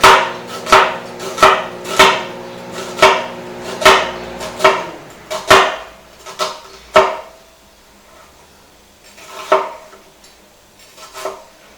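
A knife chops through the other half of an onion on a board, about a dozen sharp, evenly spaced knocks that slow down and thin out toward the end, close and clear with no talking.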